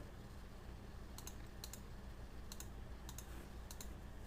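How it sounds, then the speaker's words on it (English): Arrow keys on a computer keyboard tapped in short pairs and triples to nudge a layer in Photoshop, soft crisp clicks spaced apart against constant low room hiss. "And you can use your arrow keys to nudge it into place."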